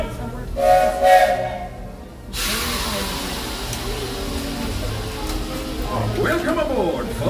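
A Magic Kingdom steam train sounds its whistle in a short, bright blast before a loud hiss of steam and rumbling movement take over, with crowd noise and a voice speaking throughout.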